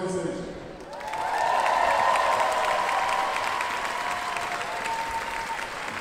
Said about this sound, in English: please give a big applause once again to the heads of Dodgeball Austria and heads of organization